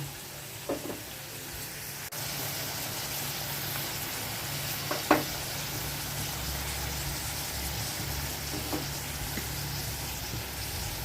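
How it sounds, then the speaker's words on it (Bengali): Onion and eggplant frying in oil in a home kitchen, a steady close sizzle with a few sharp clinks of a spoon against the pan, no talking. "তেলের মধ্যে পেঁয়াজ আর বেগুনটা দিয়ে দিলাম"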